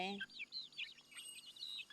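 Backyard village chickens on a Thai farm give a quick run of soft, high peeping chirps, faint and close, after a brief voice at the very start.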